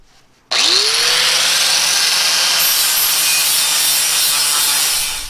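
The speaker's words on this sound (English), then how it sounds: "Now we're going to take the grinder to it and just see how bad the gaps really are." Angle grinder grinding tack welds on a patch panel in a rusty 1977 Chevy C10 fender: one loud, sustained abrasive screech that spins up suddenly and runs steadily to the end, with no talking.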